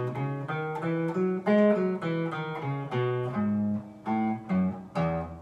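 Clear plucked guitar notes of a major scale climb and descend one at a time in a steady, even rhythm, played cleanly and fairly softly with no voice.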